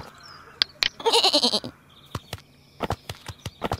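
Sheep in the video game Wedus Telu bleat in a series of short, close calls, one sustained bleat followed by sharp clicks and more brief bleats.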